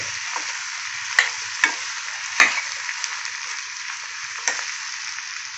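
Bottle gourd rasam being stirred in a pan, a steady soft sizzle broken by several sharp scraping clinks of the spoon against the metal, with no one talking.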